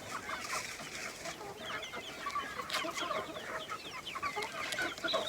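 Hens and chicks cluck and chirp in a home farmyard, a scattered chorus of soft clucks and peeps over faint outdoor background, with no one speaking.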